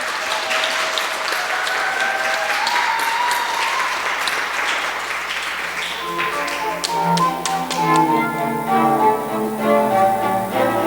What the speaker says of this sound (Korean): 다 같이 박수로 우리 수녀님들을 맞이하겠습니다.